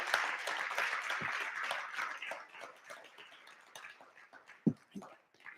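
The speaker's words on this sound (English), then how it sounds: "Let's give her a round of applause." An audience claps for a newly introduced HR vice chancellor at a Black History Month event, a dense burst of applause that thins and fades over several seconds, with a few scattered louder claps near the end.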